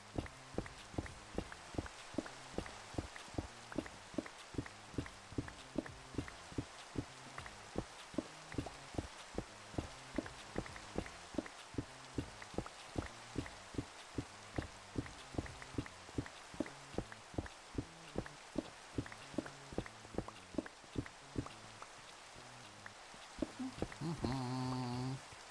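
Rain falling in Minecraft, a steady patter of droplets under a regular run of soft knocking thumps, continuous and fairly quiet, with no talking.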